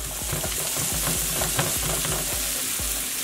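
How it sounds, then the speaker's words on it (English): Mashed bean mixture for vegan tacos sizzling and crackling steadily in melted coconut oil in a pan, with frequent scraping and stirring taps as it is spread around, close and constant. "go in with your bean mixture. Mush it down and spread it around the pan."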